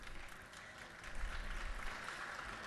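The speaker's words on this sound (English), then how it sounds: "If you all would just give her a round of applause." Applause rises faintly in a legislative chamber for a guest, a soft, distant round of clapping that swells slightly midway and carries on steadily.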